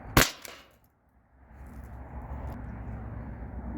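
A single sharp pop from a modded T4E HDP50 pistol hitting a tin tray about 12 feet away, with a quick metallic echo, then a lull and a low steady outdoor rumble.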